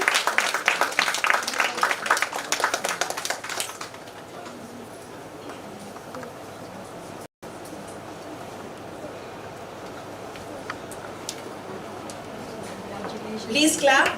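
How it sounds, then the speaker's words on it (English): Applause from the audience at an awards ceremony for women honorees, a burst of claps for the first few seconds that then thins to a quiet room, with a short swell of clapping again at the very end. "Please clap for them"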